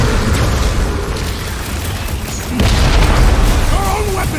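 An explosion in the Guardians of the Galaxy video game, heard as a loud, deep, sustained boom and rumble under battle noise, with voices speaking over it.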